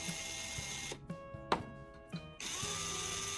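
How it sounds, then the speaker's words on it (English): An electric drill spins a spark plug at high speed for cleaning, its motor whining in steady bursts with a pitch glide, broken by short stops and clicks before running up again, close and alone. "I'll start by inserting one spark plug into my drill. This allows me to rotate it at a high speed"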